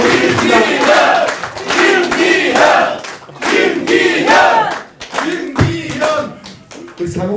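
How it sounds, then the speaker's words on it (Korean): Loud bursts of cheering, shouting and clapping from party members at a People Power Party members' meeting in Yeongju, coming in rhythmic waves of chanting voices and applause that rise and fall several times. "이 말에 동의하신다면 큰 박수 부탁드립니다"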